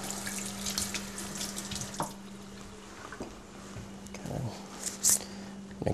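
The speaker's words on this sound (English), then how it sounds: "I'm going to rinse my knife though, so I don't get oniony mushrooms." A kitchen knife is rinsed under a running tap in a home kitchen, with a soft, steady stream of water broken by splashes and clinks as the blade moves, and a low hum in the background.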